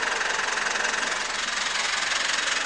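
A Mitsubishi Triton 2.4 4N15 turbo diesel engine idles steadily up close, giving a dense, even clatter with no pauses or talk.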